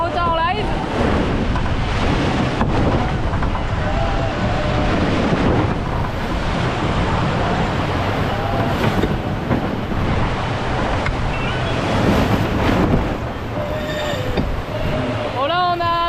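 Rushing wind of about 20 knots and breaking waves surge continuously around a sailboat moving at about 12.5 knots, loud and close, with buffeting gusts on the microphone.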